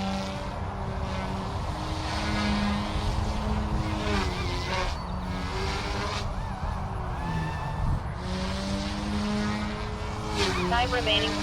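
A Blade Infusion 180 micro RC helicopter's rotor spins at full head speed, giving a steady, continuous whine with shifting harmonic tones, close and loud throughout, alongside faint background voices.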